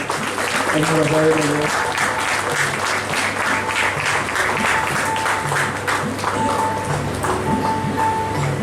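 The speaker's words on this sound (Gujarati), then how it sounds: "તાળીઓના ગડગડાટથી આપણે" An audience at a Rajput community gathering in Navsari claps in a sustained burst of applause lasting several seconds, loud and close, with a voice speaking over it.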